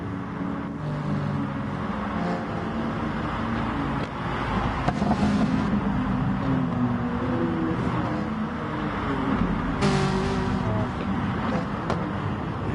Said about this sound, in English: Cars have remained pretty bunched up.